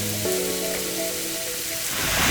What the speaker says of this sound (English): And then in goes the beef.